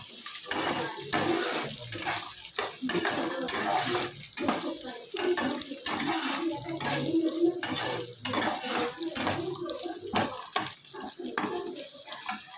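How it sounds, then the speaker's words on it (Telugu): Onions and green chillies sizzle in a pan over low heat while a spatula scrapes and stirs them back and forth for semiya upma, a continuous close clatter with some voices underneath. "ఇలా సిమ్లో వేగిస్తూ ఉంటే ఆనియన్స్ పచ్చిమిర్చి అన్నీ బాగా ఏగుతాయి"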